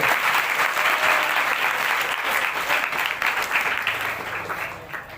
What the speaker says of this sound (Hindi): जोरदार ताली इनको ले